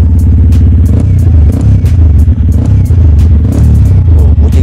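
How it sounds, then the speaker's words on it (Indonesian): A 2020 Yamaha WR155 supermoto with an aftermarket exhaust idles and revs close by, a loud, deep, continuous throbbing rumble with brief throttle blips and clattery pops. "ini knalpotnya udah gue ganti, jadi biar lo juga denger enaknya kayak apa."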